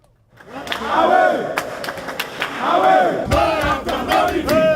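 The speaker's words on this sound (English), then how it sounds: "Some teachers and members of the National Council of the Ghana National Association of Teachers booing the Deputy Minister for Education" Teachers and National Council members of the Ghana National Association of Teachers jeer and shout in a loud, continuous crowd roar at an annual meeting, voices swelling in waves with sharp outbursts throughout.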